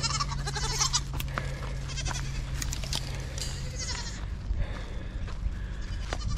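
Goats bleating while they are being fed on a farm, several calls overlapping with wavering cries across the whole stretch, fairly close, over faint background noise and without talk.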